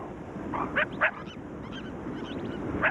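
A domestic dog or dog–jackal hybrid calling among an Ethiopian jackal pack in the Bale Mountains, giving a few short, nasal, honking yelps at a distance, spaced irregularly over a steady outdoor background hiss.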